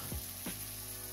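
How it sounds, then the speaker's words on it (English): Food sizzles and crackles in a hot cast iron pan, a brief hiss with a couple of quick louder bursts as it spits. "Just listen to that sizzle."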